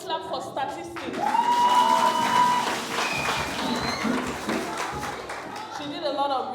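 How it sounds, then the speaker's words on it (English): Applause at an agribusiness project pitching event, a steady wash of many hands clapping that rises, holds for several seconds and then tapers, with chatter and a few whistles or shouts over it. "can we clap for statistics?"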